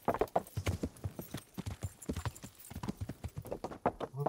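Rapid rhythmic hoofbeats of a galloping horse in the video game Kingdom Come: Deliverance, steady thudding clip-clops continuing throughout with a brief whinny, close and clear, no voices.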